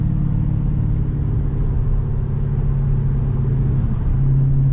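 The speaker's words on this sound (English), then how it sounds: "what the ZF automatic transmission just did was, it was just in 6th gear, and it just dropped down to 3rd" An older Ford Mustang GT with a ZF automatic transmission accelerates hard and kicks down from sixth to third gear, its engine giving a steady, loud, throaty rumble with no voices.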